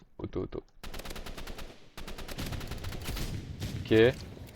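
Rapid automatic gunfire rattles in the shooter video game Rivals. Bursts of loud, fast shots come in quick succession with short breaks, a voice talks briefly near the start, and a tonal game alert sounds near the end.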